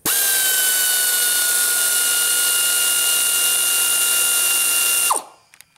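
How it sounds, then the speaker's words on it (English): A power tool zips out the bolts of the V-belt tensioner on a 2002 VW Golf GTI: one loud, steady whine lasting about five seconds, then a quick wind-down to quiet. "Now remove the 3 bolts holding the V-belt tensioner."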